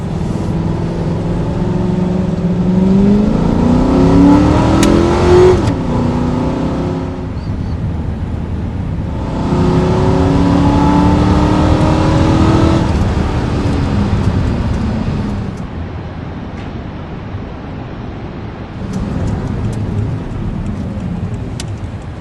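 A car driving off, its engine rising in pitch as it accelerates and shifts, with a loud, close rumble that eases and returns in waves over about twenty seconds.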